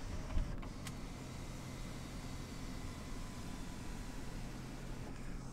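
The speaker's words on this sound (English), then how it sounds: "And then to close that moonroof," The power moonroof of a 2014 Hyundai Sonata Hybrid closes on its own with a steady, soft motor whir inside the cabin. There is a brief click near the start and another near the end.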